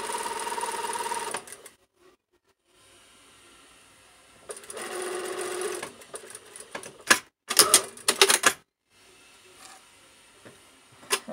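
A sewing machine stitches a hidden zipper into trousers in fast, steady mechanical runs, with pauses between bursts and some sharp clicks and handling clatter near the end.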